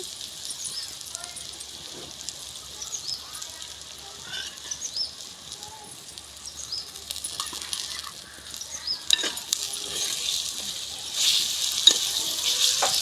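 Ginger paste stirred into a frying pan in a small village kitchen, heard as a faint, steady sizzle with occasional clinks of a spoon. A voice is heard at times in the background.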